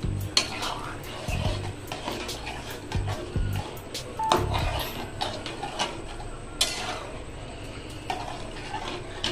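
Semolina with raisins and sugar stirred in a cooking pot, a spoon clinking and scraping against the metal in quick irregular taps, close and fairly soft, with no talking.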